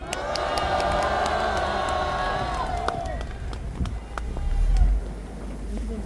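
Crowd applause and cheering at an outdoor Korean political rally, loud at first with a sustained tone beneath, then thinning into scattered claps, crowd murmur and low rumble.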